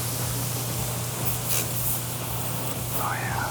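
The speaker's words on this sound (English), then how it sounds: "This is McGuire's Citrus Cleaner Plus in here. Hopefully it'll stretch all the way over there." Meguiar's Citrus Cleaner Plus sprayed from a bottle during a weekend car wash, a steady close hiss lasting a few seconds over a low constant hum.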